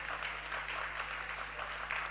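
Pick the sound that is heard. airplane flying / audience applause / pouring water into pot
audience applause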